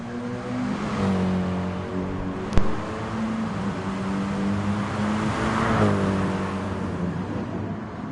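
Group 3 BMW M6 race car engine in a racing video game on a wet Spa circuit, a steady droning engine note with shifting pitch, one sharp crack near the middle, continuous and fairly loud throughout.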